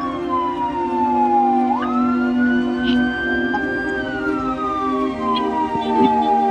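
A wailing ambulance siren on a street in Bandung, West Java, its tone sweeping up and down steadily and loudly over a dense traffic rumble, with no talk.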